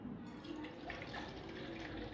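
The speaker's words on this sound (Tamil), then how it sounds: "இப்போ இந்த தண்ணியை நம்ம வடிகட்டி எடுத்துக்கலாம்." Tender coconut water being strained, a soft continuous trickle and drip of liquid, faint and close, with no talking.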